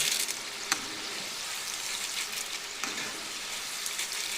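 Kalu mixture fries in hot oil with a soft, even bubbling sizzle and a few sharper pops, fairly quiet and with no talking.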